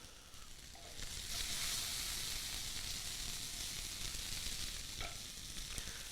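Shrimp and scallops sear in a hot pan, giving a steady, loud sizzle and hiss that swells after the first second and holds close throughout, with a few faint clicks of the pan.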